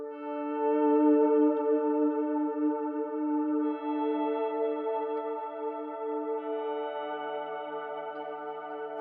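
Electric guitar through a Flint pedal in 80s mode with a volume swell effect, sustained chords fading in smoothly with no pick attack, washed in chorus and reverb, alone and moderately loud.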